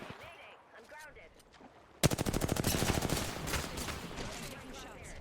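Rapid automatic gunfire in the video game Apex Legends erupts suddenly after quieter moments with voices, becoming a loud sustained burst of closely spaced shots.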